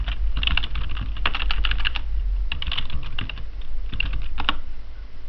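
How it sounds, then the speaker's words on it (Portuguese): Computer keyboard typed on in bursts of quick clicking keystrokes, with short pauses between runs, close and fairly loud over a low steady hum, no talking. "Vou digitar aqui, sei lá, computador"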